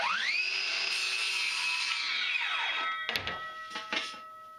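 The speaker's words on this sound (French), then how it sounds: "il faut que je fasse un premier essai de découpe pour voir la distance entre le bord de mon support et la découpe" A power saw makes a first test cut with its blade guided along a bar clamped to a support. The motor whines up to speed, holds a high steady pitch for about two seconds and then winds down, followed by several sharp clunks.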